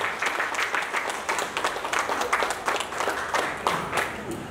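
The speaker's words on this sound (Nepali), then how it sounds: "तालीले उभिएर" An audience at a stage program gives a standing ovation, with dense, continuous clapping from a crowd that swells and carries on for the whole stretch.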